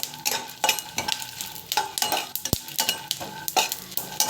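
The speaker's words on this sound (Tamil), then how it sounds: "மிளகா வந்து பார்த்திங்கன்னா அந்த ஆயில் வந்து ஃப்ரை ஆகணும்" Chillies fry in hot oil as a spatula stirs them around the pan. Repeated scraping strokes and spatters fall in a loose rhythm, with one sharp metallic knock partway through.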